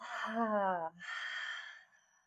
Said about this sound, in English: So inhaling, exhale through the mouth.